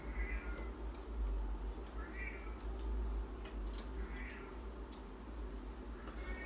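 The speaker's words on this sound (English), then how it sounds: "my cat's making noise in the background because the door's closed" A cat behind a closed door meows repeatedly, about four drawn-out cries spaced evenly apart, somewhat distant over a low background hum.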